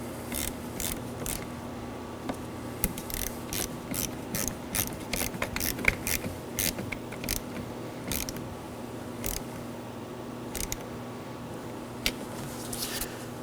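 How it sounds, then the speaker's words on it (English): A ratchet with a 10mm socket clicks as it snugs down the positive battery terminal on a 2013-2019 Nissan Sentra: close, crisp pawl ticks in short, irregular bursts with small pauses between them. "Snug it down with a 10mm."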